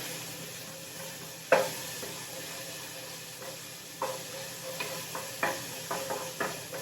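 Rice being stirred in a cooking pot with salt just added, a steady sizzling hiss under scattered soft scraping knocks from the spoon, which grow more frequent toward the end.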